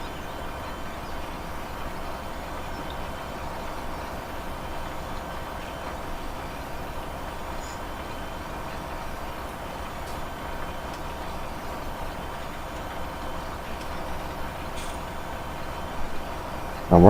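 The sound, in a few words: articulated tractor engine driving, from video game Farming Simulator 17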